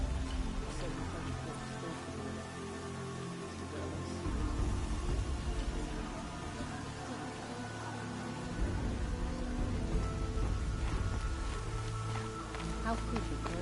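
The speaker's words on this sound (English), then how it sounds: "Rain's not so bad." Steady rain falls in Horizon Zero Dawn, a dense, even patter that stays moderately loud throughout, with no voices.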